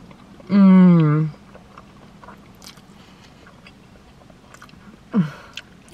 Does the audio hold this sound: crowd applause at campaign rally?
no